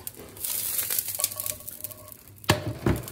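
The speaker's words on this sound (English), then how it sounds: "with a spatula we scrub the bottom of the pan." A spatula scrapes and scrubs the bottom of a cooking pan with water added, giving close, irregular scratching and sizzling strokes with a couple of sharper scrapes near the end.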